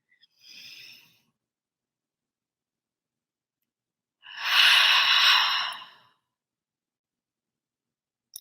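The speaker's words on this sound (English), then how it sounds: "let us have one last culminating breath with that body part" Two slow, soft breaths are taken close by in a quiet room, with a brief inhale first and then a longer, deeper breath a few seconds later during a guided breathing session.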